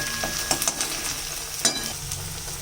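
Garlic paste frying with reddish-browned onions in a pan, a continuous close sizzle broken by repeated clinks and scrapes of a spoon stirring, with no voices.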